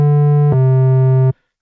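A Discovery Synth oscillator playing a square waveform gives a loud, buzzy, harmonically rich sustained tone. The pitch dips slightly after half a second, and the tone stops cleanly at about 1.3 seconds.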